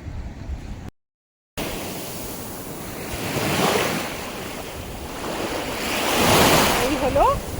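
Surf rolls in at Nusa Dua beach in Bali, waves swelling and breaking in two broad surges over steady wind buffeting the microphone, with a brief dropout near the start.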